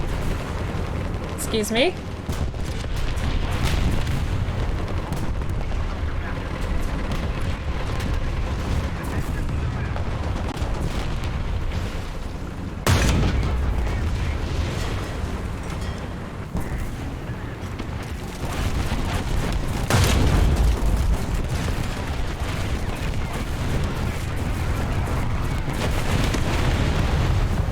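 War Thunder battlefield erupting with artillery fire: heavy booming blasts and rumbling gunfire roll almost continuously, with sharp loud impacts near 13 and 20 seconds, while voices talk over the din.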